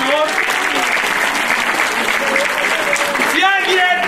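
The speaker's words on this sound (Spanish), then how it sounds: "Fuerte el aplauso, por favor." Loud, sustained applause from the audience at a quinceañera party, dense steady clapping throughout, with a voice and cheers rising briefly near the end.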